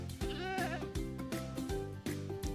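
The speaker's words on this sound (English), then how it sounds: "It's a goat." A goat in Minecraft lets out a series of repeated nasal bleats. The calls come in short, steady pulses, close and clear, with no talking over them.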